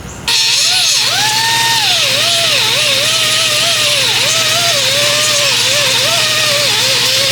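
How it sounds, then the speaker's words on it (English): A power grinder working spot weld marks off a Mazda Miata radiator support, starting abruptly and holding a loud, continuous whine that rises and dips in pitch as the disc bites into the metal. "we just gotta go and grind off all these spot weld marks"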